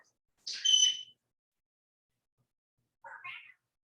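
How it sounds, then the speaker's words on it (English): Two short, high-pitched cat meows, the second quieter and a few seconds after the first, with silence around them. "Meow, meow, meow."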